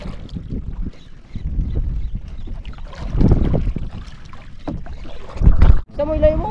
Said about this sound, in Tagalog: Makalampas na yung bangka.